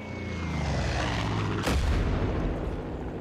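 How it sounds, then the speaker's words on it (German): A Far Cry 5 bomb whooshes through the air and lands with a heavy explosive boom, over a continuous loud rumbling background. "Bombe fliegt!"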